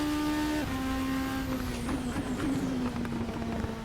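A Super Formula race car in the Assetto Corsa racing game holds a loud, high engine note, then overruns through deceleration with crackling pops and falling whines, close and alone without talk.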